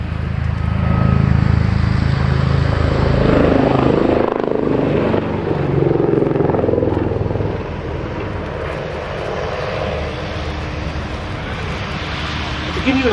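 A Westland Lynx AH7 helicopter in a flying display at Abingdon: loud, close rotor thrum and turbine roar that swells, shifts and then eases to a steadier drone as it moves away, with a voice briefly audible over it.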